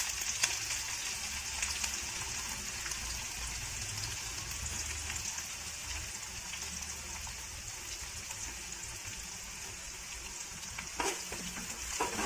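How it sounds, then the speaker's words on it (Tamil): Onions and curry leaves with spices fry in sesame oil in a wok, a continuous close crackling sizzle with steady stirring scrapes throughout and a few sharper clinks near the end. "நல்லா வதக்கி விட்டுக்கலாம்."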